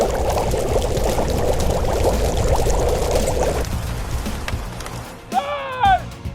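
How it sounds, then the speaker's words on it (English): Water sprays and splashes steadily from a toy fire truck during play, a continuous wet hiss for several seconds that fades, followed by a brief voice. "Let's tell the car to spray water."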